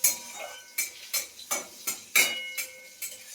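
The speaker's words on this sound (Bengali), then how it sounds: "তারপরে এটা একটু ভালো করে ভেজে নিই" Panch phoron and dried chili fry in a pan: a soft sizzle underneath and a regular series of about eight scraping stirring strokes, close and fairly quiet, with no talk.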